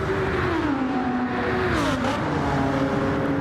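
Race cars lapping the Nürburgring in Gran Turismo 7, a loud continuous engine drone with a pitch that rises and sweeps down as gears change, a second engine layered underneath, no voices.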